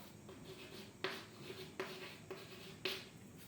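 Pen strokes writing a woman's name by hand on paper, a faint scratchy rustle broken by a few sharper taps and strokes, close and quiet with no talk.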